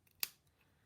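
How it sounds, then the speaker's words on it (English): A single crisp snip of scissors cutting into patterned designer paper for card making, close and isolated against a quiet room. "that's why I'm snipping into it a bit"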